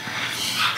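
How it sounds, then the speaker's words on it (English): Puppies yip and whimper nearby in a brief, bright burst, high-pitched and close, with no talking over them. "You can probably hear the puppies barking."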